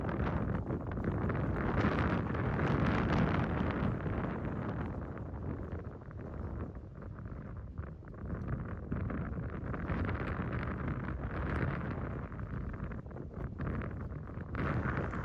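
Strong wind buffets the microphone on an open golf course, a continuous loud roaring rumble that stays steady throughout with no voices.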